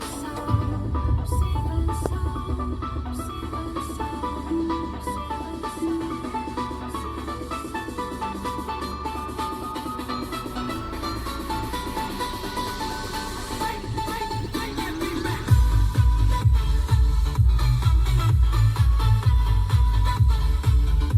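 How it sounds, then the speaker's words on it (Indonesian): Music with a heavy bass line plays through the speakers of a Toyota Calya, steady and fairly loud, the low end booming louder in the final seconds. "Nah ini kalau teman-teman mau denger bagaimana sih suara speaker Toyota Calya."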